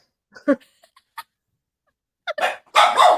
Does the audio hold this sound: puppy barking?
yes